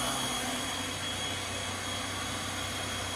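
A Haas VF3 milling machine spindle spins at 4,500 RPM with its fan covers removed, making a steady loud whine and hum with constant tonal layers and no pauses.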